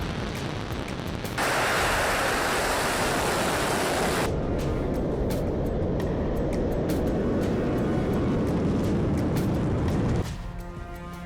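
Missile test explosions: a sudden, loud blast of broadband roar breaks in after a quiet start, then a sustained rumbling boom carries on for several seconds before cutting off near the end.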